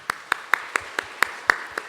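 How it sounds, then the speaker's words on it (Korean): Church congregation clapping in a steady, even rhythm, about eight sharp claps spaced roughly a quarter second apart, moderately loud with no other sound. "하나님께 박수를 올려드리시겠습니다"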